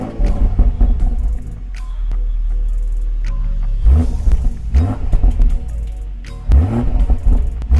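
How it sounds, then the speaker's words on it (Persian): A BMW M840i Gran Coupe (2020) engine revs loudly and close, with a deep continuous rumble and repeated sharp throttle blips rising and falling in bursts, no talking. "میخوام دعوتتون کنم به شنیدن صدای قرش M840i."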